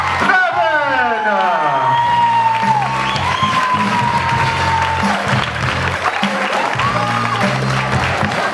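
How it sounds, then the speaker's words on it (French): Audience applause and cheering at a belly dance show, loud and sustained crowd clapping with whoops, while a voice speaks over it. "Allez, on les applaudit bien fort."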